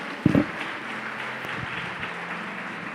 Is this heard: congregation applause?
yes